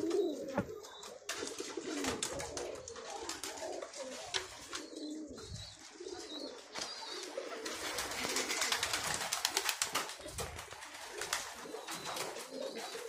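Domestic pigeons coo repeatedly amid dense, overlapping bird calls and flutters, kept by Indonesian pigeon fanciers; the cooing is steady and close throughout, with faint background voices.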